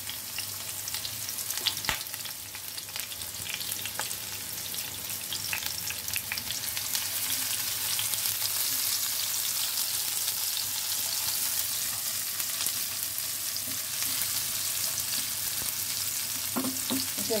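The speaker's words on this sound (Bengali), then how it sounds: "এটা একটু ভাজা হবে" Chopped onion and black cumin seeds sizzle steadily in hot mustard oil in a home kitchen pan while a curry is being cooked, a continuous close frying hiss with occasional stirring clinks and no speech.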